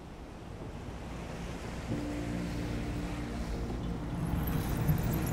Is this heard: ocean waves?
yes